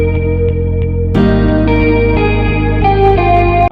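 Loud electric guitar chords drenched in reverb and chorus-like effects from Guitar Rig in FL Studio, for an indie rock beat, ringing and shimmering, with a change of chord partway through.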